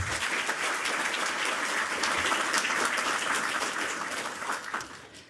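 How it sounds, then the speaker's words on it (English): An audience in a lecture hall applauds to welcome a speaker to a fireside chat, a dense, sustained round of clapping that stays full before tapering off at the end. "Let's give her a big round of applause and welcome her."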